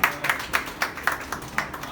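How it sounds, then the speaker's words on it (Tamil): Guests clap in a slow, regular rhythm at a family house dedication, about eight distinct, fairly close hand claps in a row with no talk over them. "ஓகே மாமா, சமேஷ் ஓகே, ஒரு கைத்தட்டு கொடுத்துருவோம்."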